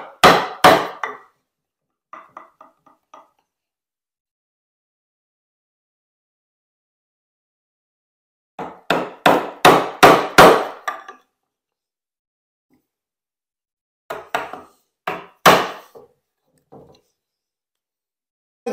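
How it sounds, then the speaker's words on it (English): Hammer tapping a metal nut into a wooden block for a homemade Moxon vise, in separate bursts of sharp, ringing knocks with long silent gaps between, close and without talk. "we want to tap this nut in that it doesn't slop about"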